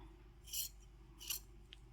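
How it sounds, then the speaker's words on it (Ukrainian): Scissors snip away the excess pile at the seam of faux fur, two crisp short cuts about three quarters of a second apart and a faint tick after, quiet and close over low room noise. "треба взяти ножиці і зрізати весь зайвий ворс"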